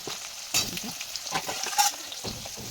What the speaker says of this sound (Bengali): এবার আমি সাজনা ডাঁটাগুলো দিয়ে দিই।